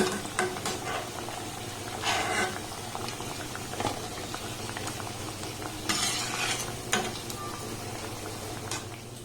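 Semolina sweets frying in oil, a steady hiss of bubbling with occasional louder bursts of sizzle and stirring clinks, close and uninterrupted by speech.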